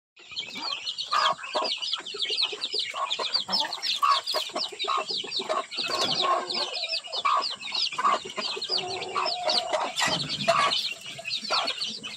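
Many free-range farm chickens cluck and chatter continuously in a busy chorus, close by, with a steady high whine in the background.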